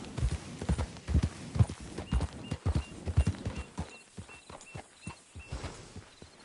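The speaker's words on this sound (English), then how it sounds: "good-looking horse there" Horse hooves clop on a hard surface in an uneven walking rhythm, fairly close, gradually getting softer.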